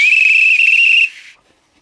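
A pea whistle with a bit of fluff lodged inside is blown once, a loud steady shrill tone held for about a second before cutting off and fading, alone with no talk.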